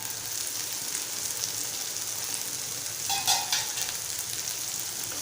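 Cluster beans stir-fried in a pan give off a steady hiss and sizzle. A brief louder burst of crackle comes about midway, from stirring, with no talking.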